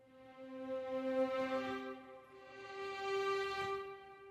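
A sampled legato violin plays a slow, sustained two-note melody with a smooth, even tone, soft and alone.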